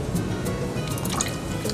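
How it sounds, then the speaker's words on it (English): Fresh-squeezed lemon and lime juice pours into a sangria mix, a continuous close liquid splash and trickle with small drips, no talking. "our 8 ounces of fresh squeezed lemon juice and lime juice go right in"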